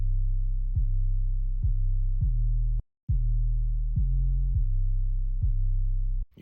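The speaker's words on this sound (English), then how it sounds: "Here's the 808 pattern. I'm just gonna play it by itself" Deep sub-bass 808 notes sound alone in a simple pattern, each starting with a quick pitch drop, sustained and booming, with one brief silent gap.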